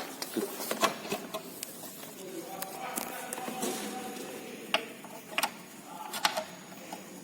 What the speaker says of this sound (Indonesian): kita akan menggunakan obeng bagian min untuk membuka tapping